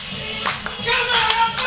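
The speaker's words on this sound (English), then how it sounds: "A lot of clapping." Wrestling event crowd clapping briefly, a scattering of hand claps rising over a dense background murmur of the audience.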